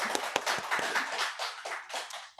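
A church congregation gives a round of encouraging applause, many hands clapping together in a dense burst that gradually thins and fades.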